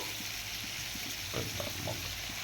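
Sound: whole spices frying in hot oil for biryani

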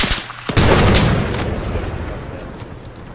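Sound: frag grenade explosion in video game ArmA 3

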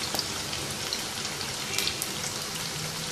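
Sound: French fries frying in hot oil in a pan

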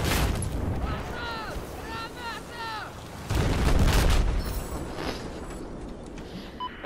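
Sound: rocket hitting a tank in Battlefield 4 video game

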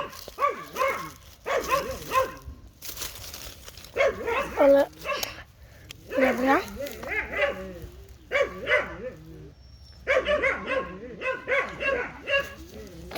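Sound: dogs barking loudly

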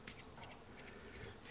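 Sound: bees flying around pomegranate blossoms

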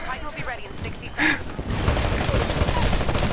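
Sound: gunfire shooting minions in the video game Titanfall

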